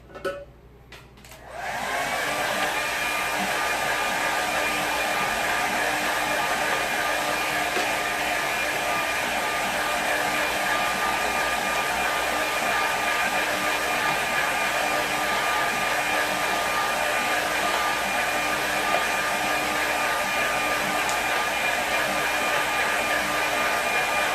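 A hair dryer blows steadily over a watercolour painting, a loud continuous whirring roar that starts after a brief quiet moment and holds unbroken to the end.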